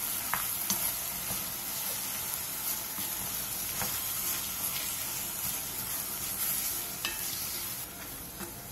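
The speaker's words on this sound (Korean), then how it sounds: "그 다음 묵은지와 고춧가루 1스푼을 넣고 골고루 어우러지게 약 3분 정도 볶아주세요." Aged kimchi stir-frying with chili powder in a pot, a steady soft sizzle with intermittent scraping stirs of a utensil throughout, no voices.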